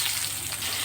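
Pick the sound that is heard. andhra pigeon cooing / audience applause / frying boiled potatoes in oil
frying boiled potatoes in oil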